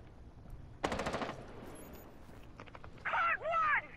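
Gunfire in the Rainbow Six Siege video game: a short burst of rapid shots early on, followed by scattered fainter pops and then a louder metallic, ringing effect near the end.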